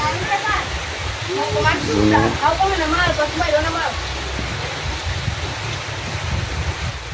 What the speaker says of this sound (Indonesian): Pada hujan keras sekali guys.